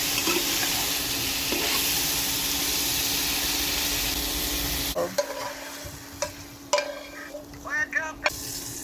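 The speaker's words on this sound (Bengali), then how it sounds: "প্যানে তেল দিয়ে গরম করে একটা টমেটোগুলো দিয়ে দিলাম দিয়ে নাড়িয়ে ভাজা ভাজা হয়ে গেলে ভেজে তুলে নেব" Tomatoes frying in hot oil in a pan while being stirred, giving a loud, steady sizzle for the first half, then a quieter hiss broken by scraping clicks of the spoon against the pan.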